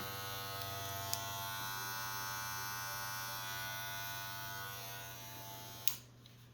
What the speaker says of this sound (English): You can take it, come around here, and then shave up their sideburns just a little bit.